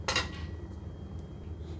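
Fried panjiri ingredients are tipped from a kadhai into a pot, giving one sharp metallic clatter of utensils near the start followed by quieter faint scraping.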